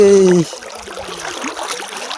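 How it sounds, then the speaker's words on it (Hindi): River water flows in a soft, steady rush, heard alone after a brief burst of a voice at the start. "पानी पानी पानी बहुत पानी"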